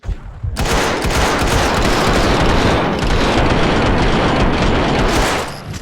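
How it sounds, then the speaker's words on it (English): Dense, loud bursts of automatic gunfire from the video game Max Payne 2 sound in a near-continuous fusillade for about five seconds, starting abruptly and cutting off at the end. "Someone must have heard the gunfire."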